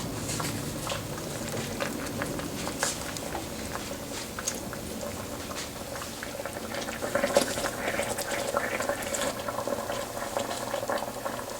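Water simmers in a pot to steam Peruvian tamales, a continuous soft bubbling and crackling patter with faint hiss, close and steady throughout without speech.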